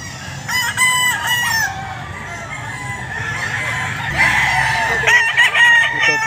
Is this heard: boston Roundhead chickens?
yes